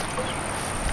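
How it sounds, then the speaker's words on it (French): Crickets chirp outdoors beside a river, as a dense, steady insect buzz with a high whine and a low rushing wash beneath it. The sound is continuous and moderately loud throughout the brief moment, with no voices. "on entend les grillons"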